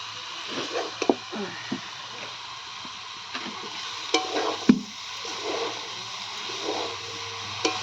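Cabbage with boiled coriander leaves is stirred in a pan for a cabbage chorchori, giving soft, irregular scrapes and moist squishing knocks over a low, steady background hum.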